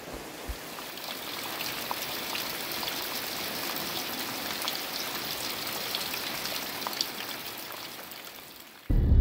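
Steady rain falls in Port St. Johns in the Transkei, Eastern Cape, a dense continuous patter with a few closer drips, ending in a sudden louder bump.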